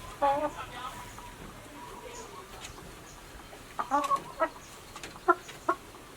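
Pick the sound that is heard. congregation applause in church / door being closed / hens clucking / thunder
hens clucking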